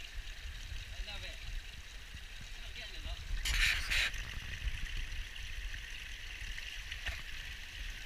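A shallow stream flows steadily along a coastal trail run, with a continuous low gurgle and rushing water and a brief brighter splash midway.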